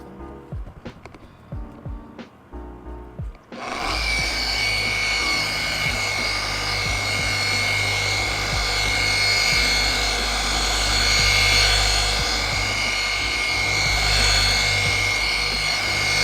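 Rotary or orbital polisher working a car's exterior during mobile detailing, starting after a few seconds of light handling noises into a loud, continuous whirring hum with a steady high tone, close by.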